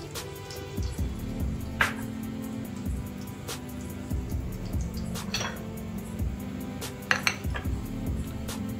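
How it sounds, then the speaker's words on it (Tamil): Mustard seeds hit hot oil in a pan for a vegetable kuruma, giving a steady close sizzle with scattered sharp pops and crackles, heard alone without talk. "கடுகு போட்டுக்கணும்."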